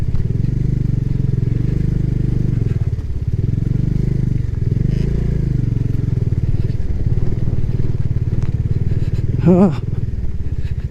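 A motorcycle ridden up a rough mountain road in the Darma Valley of Uttarakhand, its engine running hot, gives a close, continuous low engine drone with clattering, under a rider speaking throughout.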